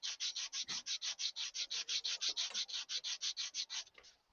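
A ball gouge cuts wood on a lathe, tearing out the middle of the piece, giving a steady run of about twenty rhythmic rasping scrapes, loud and close, one with each turn of the work.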